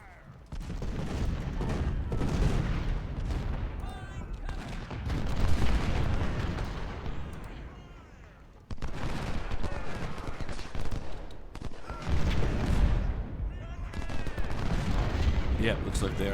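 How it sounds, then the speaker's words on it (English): Continuous rattling musket volleys from Civil War skirmishers in Ultimate General: Civil War, dense overlapping gunfire with booming bursts, loud and sustained with a brief dip partway through. "Let's get some skirmishers up there firing too."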